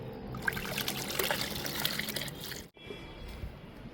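Homemade liquid fertilizer is poured onto fruit plants, a close, steady splashing trickle that breaks off for a moment near the end and then resumes.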